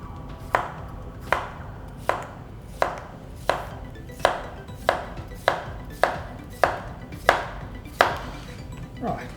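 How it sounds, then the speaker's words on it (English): Knife slicing leftover vegetables for a salad on a cutting board: about thirteen crisp, evenly spaced chops, close and clear, repeating at a steady unhurried pace over a quiet background. "we're just going to slice some of this up"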